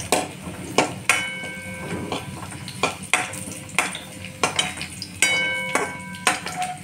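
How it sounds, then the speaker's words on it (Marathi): Cumin and garlic go into a hot pan for tempering while making a thin fenugreek leaf dish: a spoon clinks and scrapes against the metal pan in irregular strikes over a soft, steady sizzle. "जिरे टाकून घेऊया, नंतर लसूण टाकूया."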